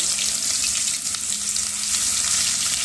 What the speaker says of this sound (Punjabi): ਇਹਨੂੰ ਚੰਗੀ ਤਰ੍ਹਾਂ 2 ਮਿੰਟ ਵਾਸਤੇ ਹਲਕਾ ਭੁੰਨ ਲਵਾਂਗੇ